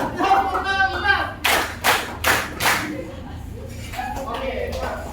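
Schoolchildren in a fifth-grade class clap in unison during a counting clap game, a few sharp group claps near the middle, with a teacher's voice before and after.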